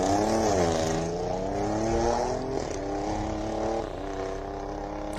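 A race car launching at the Simola Hillclimb, its engine roaring loud and near with rising harmonic tones as it accelerates through successive gear changes, heard alone without talk.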